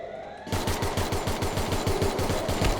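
Rapid automatic gunfire from the video game Free Fire, a loud, steady stream of regular shots that starts abruptly about half a second in and keeps going without a break.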